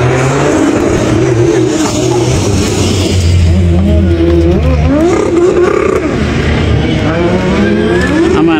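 Drift car at D1GP Japan revving hard to heat its tyres before a run, a loud, close engine roaring and climbing in pitch with repeated rises and falls, the tyres squealing alongside.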